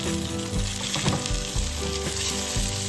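Homemade taro cake studded with dried shrimp and cured meat pan-frying in oil, a close, continuous sizzle with a few soft scraping stirs.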